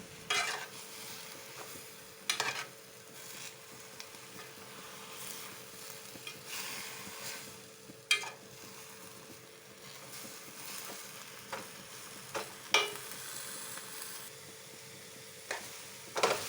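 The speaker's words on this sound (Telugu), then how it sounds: "వేసుకున్నాక కలుపుకుంటూ ఉండాలి అడగంటకుండా కలుపుతూనే ఉండాలి" Quiet, steady sizzling of gongura leaves in a pan, broken by occasional scraping clinks of a spoon stirring the food.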